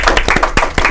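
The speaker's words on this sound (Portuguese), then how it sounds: "Produção, palmas para o nosso convidado." A studio production team claps for a guest at the close of a dental health talk show episode, a short burst of close, dense applause filling the whole second with no talking.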